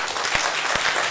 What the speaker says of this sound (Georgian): თქვენია აპლოდისმენტები